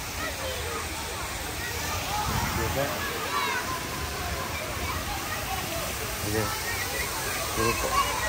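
Steady rushing, splashing water from a fountain at Lisbon's zoo fills the scene, a continuous wash of noise with people talking faintly underneath.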